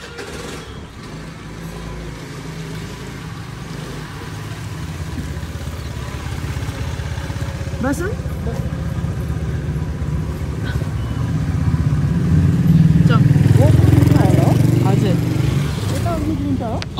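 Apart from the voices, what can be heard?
Pathao ride-hailing scooter engine running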